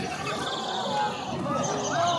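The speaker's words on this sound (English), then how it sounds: "that's just the sound of a barking owl who's super excited" Small, excited chirping squeaks from a barking owl rise now and then above a steady murmur of crowd chatter at Healesville Sanctuary, with a few clearer chirps near the end.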